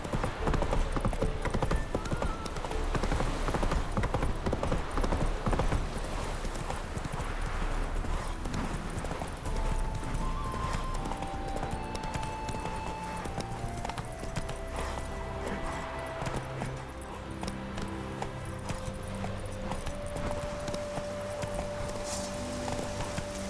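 A horse gallops in The Witcher 3 video game, its hoofbeats pounding steadily for the whole stretch under game music and ambience, with no voices.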